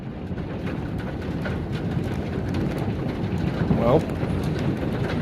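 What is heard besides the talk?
hail storm on a wheat farm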